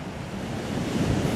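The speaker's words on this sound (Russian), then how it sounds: "Ух, но шторм такой есть" Stormy sea surf pounds the shore on a windless winter day on the Spanish coast, a loud, steady roar of breaking waves that swells slightly toward the end, with no voices.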